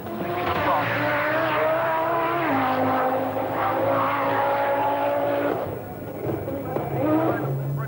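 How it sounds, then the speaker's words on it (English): A works Audi Quattro rally car with an automatic gearbox roars past on a rally stage, its loud engine note rising and falling through gear changes, with brief tyre noise near the end and commentary running over it. "Now, contrast the new automatic gearbox works Audi Quattro of Walter Roll and just watch it go."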